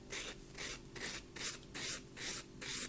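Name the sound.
nail buffer smoothing dried silk nail wrap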